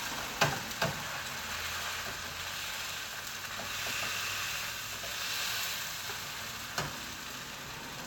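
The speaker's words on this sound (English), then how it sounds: "Oh, you can hear the sizzle." Bacon being pressed down in a hot pan fills the clip with a continuous broad sizzle, with a few sharp ticks of spatula contact near the start and again toward the end.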